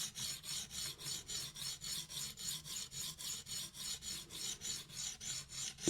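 A knife blade is drawn in steady repeated strokes across a sharpening stone, about fifteen even rasping passes in six seconds, close and clear with no talk.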